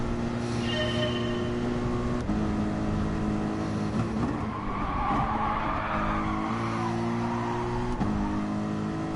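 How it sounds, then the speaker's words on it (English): A race car in GT Sport slides with its tires skidding while the engine drones at a steady pitch. The pitch dips around two seconds in and again near eight seconds. "The car was just sliding, and so I couldn't get back to the gas."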